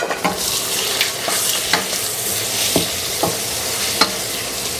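Chicken thigh sears in a pan with garlic over medium heat, giving a continuous close sizzle broken by occasional soft clicks and scrapes from a utensil.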